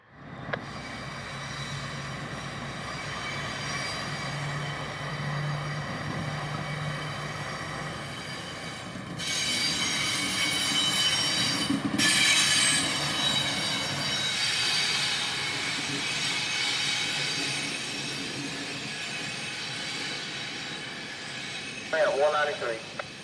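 Freight train M208, led by a rebuilt CM44 locomotive, rolls past on a wye of connection tracks in a long steady rumble, with a loud burst of high wheel squeal in the middle and a brief clatter near the end.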